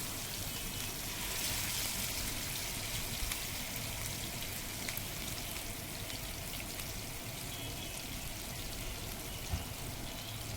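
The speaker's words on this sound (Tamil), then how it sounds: "நல்லா ஃப்ரை ஆகிற அளவுக்கு அடுப்பை ஸ்லிம்மில் வச்சுக்கோங்க. நல்லா ஃப்ரை ஆகி வரட்டும்." Chicken frying in a pan over a low flame for a chicken fry thokku, giving a steady, even crackling sizzle with fine spattering pops throughout, close and unbroken with no talk.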